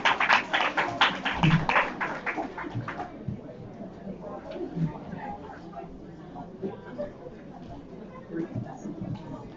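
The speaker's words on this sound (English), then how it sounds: "Let's give a round of applause." A crowd at a Bible bowl game applauds at the end of a match. A burst of dense, sharp clapping lasts about three seconds, then thins out into scattered claps and a low murmur of voices.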